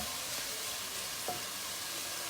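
Bacon frying in a pan gives a steady, moderately loud sizzle throughout, with one brief clink partway through and no voices.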